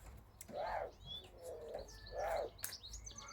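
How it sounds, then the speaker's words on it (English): Two pigeons on a fence give two soft, rounded cooing calls about a second and a half apart, faint and a little distant, with light chirping from other birds in the background. "Oh, there's 2 mating pigeons on the fence."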